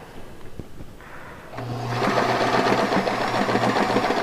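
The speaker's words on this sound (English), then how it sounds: "I'm using a triple zigzag again, just like on the pocket." A sewing machine stitches a triple zigzag, its motor whirring up into a steady, rapid, close mechanical rattle that holds evenly to the end.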